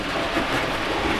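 A Graham Farish model train runs along its track with a steady, fairly loud rolling rumble and faint clicking of wheels, unbroken and without any talking.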